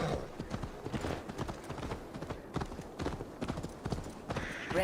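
Horse hooves clop at a steady gallop in Assassin's Creed Valhalla, a close, even stream of beats that runs the whole time with a brief whinny near the end.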